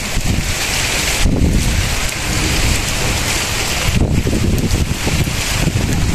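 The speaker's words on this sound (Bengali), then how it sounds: "বৃষ্টি পড়ছে, আমি বেশিক্ষণ দাঁড়াতে পারছি না বাইরে।" Heavy rain pours down in a dense, roaring wash, with gusts of wind swelling through the downpour.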